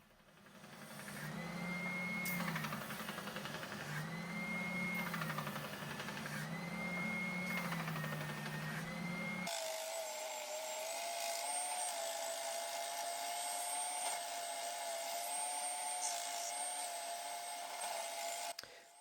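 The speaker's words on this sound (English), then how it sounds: "There's quite a bit of sanding on these." Sped-up machine sanding of a wooden reindeer cut out on a bandsaw: a steady, loud, continuous motor whine with a rhythmic pitch sway, then an abrupt change to a higher, smoother grinding tone that runs on without pause.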